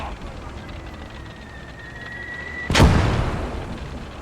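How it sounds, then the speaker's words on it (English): Mortar round exploding nearby in the WWII winter war game Blood Red Snow, a single loud sudden blast that rolls off into a rumbling decay, preceded by battlefield ambience and a thin whine. "Those mortars are close."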